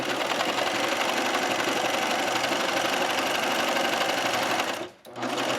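A sewing machine stitches a stretched knit elastic waistband onto an A-line skirt, running in a loud, steady, close mechanical whir that briefly drops near the end before resuming.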